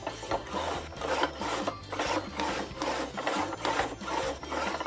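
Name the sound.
sliding cutter cutting wristband stickers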